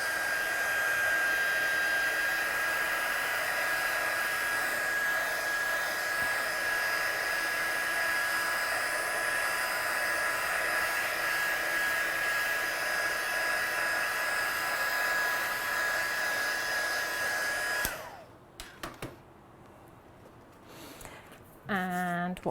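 Heat gun drying stamped watercolour paper, a loud steady roaring blow that runs continuously for most of the stretch before cutting off abruptly into quiet handling sounds.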